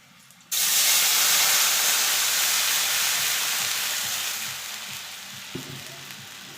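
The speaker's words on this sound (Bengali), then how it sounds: "আমি জল দিচ্ছি।" Water hits a hot pan of bitter gourd, potato and hilsa fish, setting off a sudden loud sizzling hiss with steam that stays strong and slowly fades, with a faint knock near the end and no talking.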